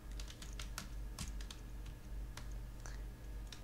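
A computer keyboard is typed on in short bursts of light, close clicking keystrokes, entering a web search, over a steady low hum with no one talking.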